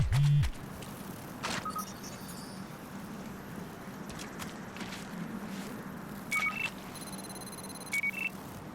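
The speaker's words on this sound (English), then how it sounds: "if ever I actually hear what sounds like a cell phone going off, that means I'm passing over evidence" Evidence alert in a police video game, a short electronic chirp like a cell phone going off. Several brief beeping bursts sound at intervals over a steady low game background.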